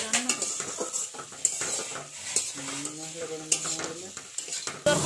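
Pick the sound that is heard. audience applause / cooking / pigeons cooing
cooking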